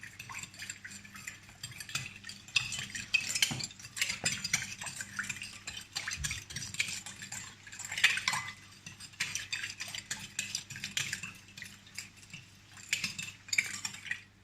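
A spoon stirs a sweet-sour mix of apple vinegar and sugar in a pan, producing soft, continuous scraping and light clinks, quiet and close, with no talking.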